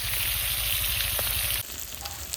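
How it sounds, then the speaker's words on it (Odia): Fish frying village style in a pan, a loud dense sizzle that holds steadily and then drops to a quieter crackle. "ଏଠି ଆମର ମାଛ ଭଜା ଚାଲିଛି"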